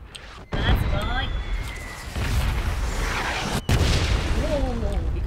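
Booming explosions in the battle royale game PUBG, like fireworks going off, with loud low blasts and bursts one after another, sharp hits near 0.6 and 3.7 seconds, under excited talk.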